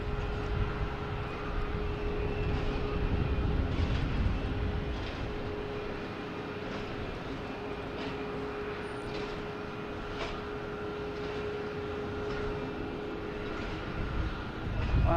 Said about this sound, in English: we got a JetBlue A320 heading to Orlando